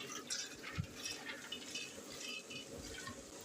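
Water pours into a pressure cooker holding soaked chana dal, a soft steady splashing and trickling that stays faint and close for a few seconds.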